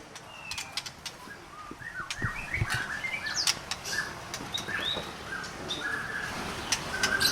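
A white-rumped shama (murai batu) at a bird farm sings a series of varied whistles and chirps, moderately close, with wing flutters and faint background noise.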